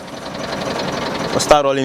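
Tractor-driven PTO sheller running during harvest, a steady mechanical drone with rattling beneath a voice talking over it, then a sharp clank and a whining rise near the end.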